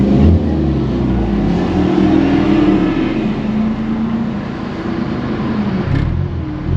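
A Honda car's engine fitted with a downpipe exhaust revs hard during a night drive, heard loud and close as a continuous deep droning roar that rises and swells under acceleration.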